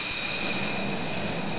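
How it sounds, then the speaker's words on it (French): Steady engine roar of an F-22 Raptor fighter jet in Microsoft Flight Simulator 2020, a constant broadband hiss with a faint high whine, heard from the cockpit. "je suis à bord d'un F-22 Raptor. Un avion de chasse américain."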